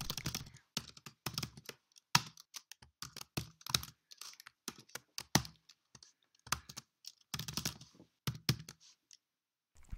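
Fast, irregular bursts of key clicks from a computer keyboard while writing code in the Emacs editor, close and fairly quiet, with short pauses between runs of keystrokes.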